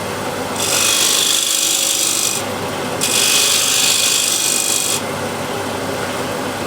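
Wood being turned on a lathe as a spindle gouge cuts a cove, giving two long hissing, rasping passes over a steady machine hum, with a short gap between them.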